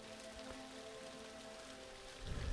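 Steady rain falling in the video game Obscurity, a faint, even hiss of drops with low ambient hum, a brief louder rumble swelling near the end.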